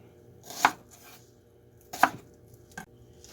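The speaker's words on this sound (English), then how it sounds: "and then just cut them in half because they will cook down in the sauce." A knife cuts through onions on a board, halving them into chunks for a sauce: three separate chops, the first two sharp and loud, a softer one at the end, with quiet pauses between.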